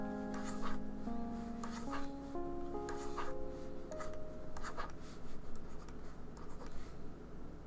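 Pencil scratching across paper while drawing an arm, a steady soft scribbling of repeated strokes heard close up over faint background music tones and low hum.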